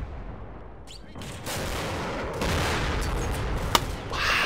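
Combat in the Combat Mission Black Sea war game in an urban battle, with rocket blasts and gunfire in a series of rumbling bursts and a loud burst of fire, ending in one sharp crack over a steady roar of battle.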